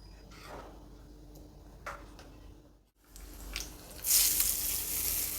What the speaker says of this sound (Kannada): ಒಣಮೆಣಸಿನ್ಕಾಯಿ ಕರಿಬೇವಿನ ಸೊಪ್ಪು ಹಾಕಿ ಒಗ್ಗರಣೆ ಹಾಕಿದೆ